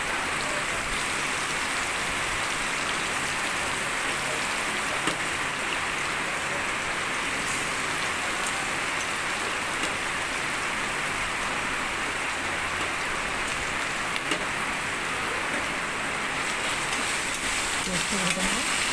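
Chopped onions sizzle and hiss steadily in a hot pan with cardamom and cinnamon, a dense frying crackle that runs throughout, with a voice speaking over it.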